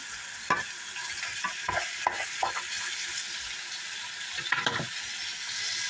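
Pork frying with garlic, onion and ginger for dinuguan makes a steady, close sizzle, broken by a run of spatula scrapes and clatters against the pan.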